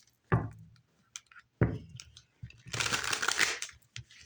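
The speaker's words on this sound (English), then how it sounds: "One more shuffle." Oracle cards being shuffled by hand make a soft rustle. A few scattered taps and handling noises come first, then a dense riffling burst of about a second, close up in a quiet room.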